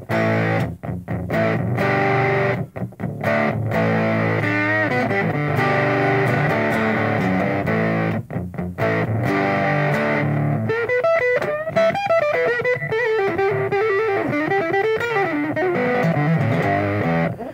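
Heavily distorted electric guitar through a distortion pedal, guitar volume at full, plays loud and up front, first chugging chords with short breaks, then a wavering lead line with bends.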